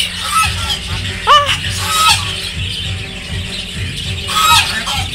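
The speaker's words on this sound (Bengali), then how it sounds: "ও মা, দুধখানা হাঁস, তিনখানা হাঁস, ও রাজা হাঁস" Ducks at a food park in Salt Lake, Kolkata give loud, close honking quacks in irregular bursts over a low steady background rumble.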